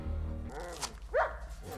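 A dog barks in a film scene, a short sharp bark rising out of low background score and rumble, heard once near the middle at moderate level.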